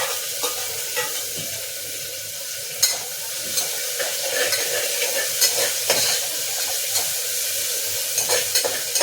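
Fennel seeds, curry leaves and onion frying in hot oil, a steady close sizzle with scattered crackles and pops and occasional stirring scrapes throughout, no voices.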